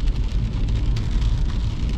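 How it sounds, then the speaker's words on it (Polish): Rain falls steadily over spring farmland during cool weather, a constant dense hiss with a low rumbling undertone and scattered sharper drop ticks, with no voices. "Teraz pada deszcz."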